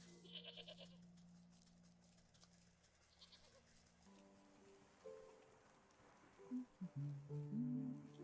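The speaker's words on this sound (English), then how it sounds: "Mountain goat. A shyer cousin of the familiar goat." A mountain goat in the video game Wytchwood gives several wavering bleats late on, rising over soft ambient game sound and a faint patter like rain.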